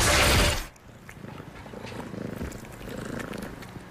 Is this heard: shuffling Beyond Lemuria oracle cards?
no